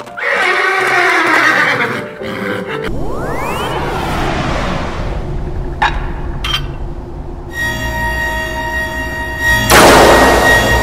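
A horse neighs loudly in a long whinny, set among a busy cartoon-style sound collage with whooshes, a sharp crack and shifting tones, all close and loud with no talk.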